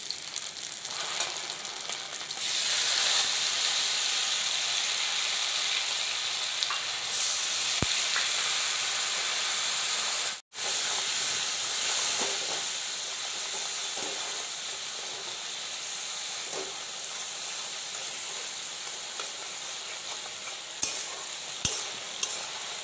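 Spices (garam masala, turmeric, salt) fry and get stirred for a jackfruit vegetarian curry, a steady close sizzle with scraping of the spoon throughout and a brief drop to silence partway through.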